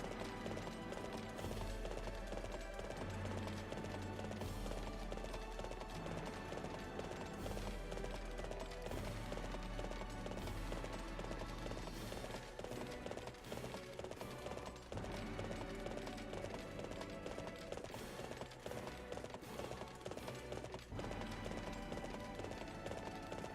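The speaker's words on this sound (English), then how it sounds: "Come on, Steve the Steed." In the video game Warriors Orochi 3, a horse gallops steadily. Its clip-clop hoofbeats repeat in a continuous rhythm, half-buried in dense game music and effects, and run without a break.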